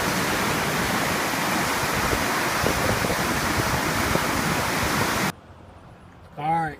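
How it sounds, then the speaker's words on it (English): Brooks Falls pours over a ledge spanning the full width of a river, a loud, steady roar of rushing water that cuts off abruptly near the end, followed by quieter background and a brief voice. "Brooks Falls. Good shot of the ledge. Full width of the river."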